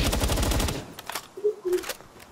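Gunfire in the video game Palworld, a fast automatic burst at the start followed by a few scattered shots and impact sounds, fairly close.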